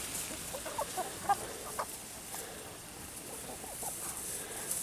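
Chickens foraging outdoors during a daytime walk, with a few soft clucks and short calls scattered over a quiet background, fairly close but not loud.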